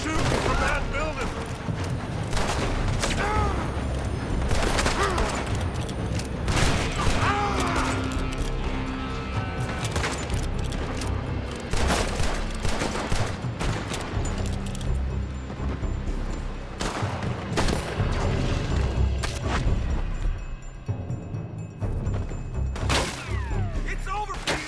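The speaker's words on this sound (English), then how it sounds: "They're shooting from that building!" Gunfire in Red Dead Redemption 2, with shots coming from a building: dense, rapid bursts of cracks and thuds run almost continuously and loudly, mixed with shouting voices.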